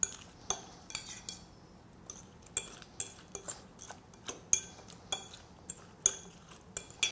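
Utensils clink and scrape against a bowl while mixing a salmon and cucumber salad, with irregular sharp taps repeating every half second or so, close and moderately quiet.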